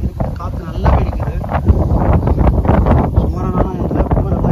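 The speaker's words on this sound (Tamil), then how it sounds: "சுமாரானாலும் இல்லை, ரொம்ப நல்லா அடிக்குது காற்று." Strong wind roars and buffets the microphone in a steady low rumble on a hill trek up Renganmalai, with people talking under it throughout.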